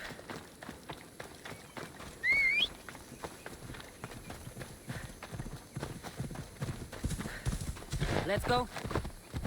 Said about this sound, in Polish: wezmę konia, koniem raczej będzie szybciej